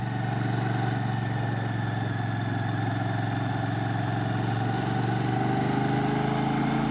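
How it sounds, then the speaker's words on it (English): A Royal Enfield Shotgun motorcycle engine runs at a steady idle-like thrum, close and constant throughout with no voices. "I just love the sound of the engine compared to the NX that I had."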